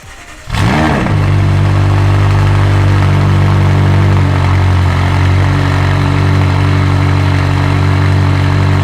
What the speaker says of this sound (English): let's hear that V8 roar